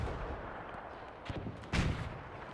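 Grenades go off on a WW1 battlefield in the video game Between Empires. Muffled blasts come from a distance, followed by one louder, sharper explosion near the end over a low background rumble.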